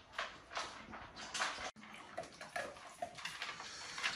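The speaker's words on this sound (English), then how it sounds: "I'm going to get back in the cold water tub" Water sloshing and splashing in a cold water tub, gentle repeated swishes of someone moving in the bath, close and fairly quiet with no talk.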